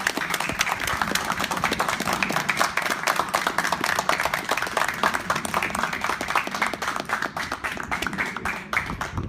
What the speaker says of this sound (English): I want to do a round of applause for the wonderful mentors that we have in the class